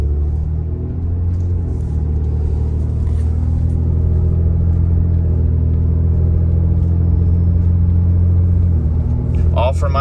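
A car accelerating from low RPM, its engine rumbling loud and steady as it climbs and shifts up through the gears, with a brief sharper noise near the end.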